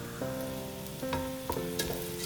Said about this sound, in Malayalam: ഇവിടെ ഇതാ നമ്മുടെ അരി നന്നായി റോസ്റ്റ് ആയിക്കൊണ്ടിരിക്കുന്നുണ്ട്